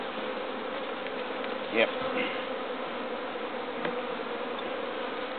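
Honeybees buzz in a steady close drone around a newly set-up beehive outdoors, with a brief spoken word over the hum.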